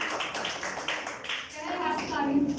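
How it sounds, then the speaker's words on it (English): Clapping from an audience at a Toastmasters-style club meeting greets the table topics speakers, a short burst of hand claps with a voice briefly heard under it near the end. "Please give a thunderous round of applause to all the table"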